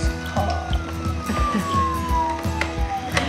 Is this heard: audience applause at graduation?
no